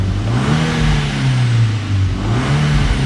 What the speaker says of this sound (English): give it a little bit of throttle so that way you can hear the exhaust